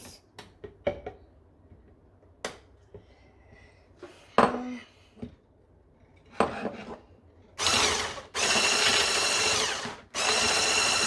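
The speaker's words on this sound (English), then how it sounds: "Whisk and blend your eggs." Eggs are whisked and blended for custard and eggnog with a hand mixer, heard as a few scattered clicks and knocks before loud, steady whirring bursts near the end, with no talking.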